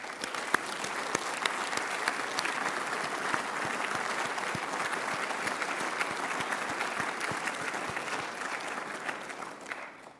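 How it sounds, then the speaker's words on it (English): An audience at a community award presentation ceremony breaks into sustained applause, dense crisp clapping with scattered louder claps, holding strong for about ten seconds before tapering at the end. "One more round of applause."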